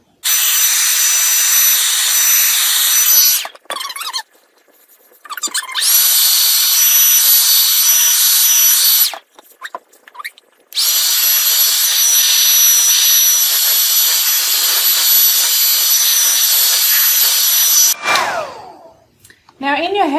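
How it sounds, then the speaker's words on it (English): Hairdryer blowing on freshly brushed white paint on kitchen decor, a loud steady whoosh running in long bursts, briefly stopping twice and fading out at the end. "So I will need to get a hairdryer to it."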